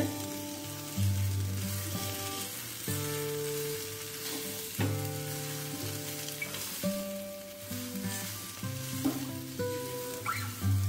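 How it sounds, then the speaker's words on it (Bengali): A rohu fish kabab mixture with chopped coriander and garam masala is stirred in a hot pan, a steady loud sizzle broken by repeated scraping strokes of the spoon, close up and without talk. "এখন আবারও মিশিয়ে নেব ভালো করে"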